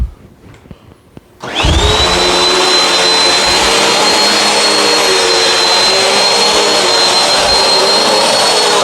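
A Bissell CleanView Swivel upright vacuum cleaner starts up after a short quiet stretch, then runs at a loud, steady whine with a high motor tone while it sucks up bits of dirt on a floor indoors.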